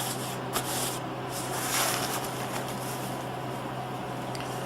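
Wet sawdust being packed into a spalted maple bowl, giving soft continuous rubbing, scraping and crunching with a few brief louder scuffs over a low steady hum.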